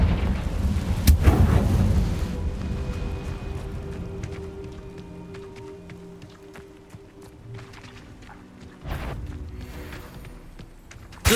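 Confringo fire spell explosions in the game Hogwarts Legacy, a booming blast rolling into a long fading rumble, with a second sharp crack near the end and another hit at the close.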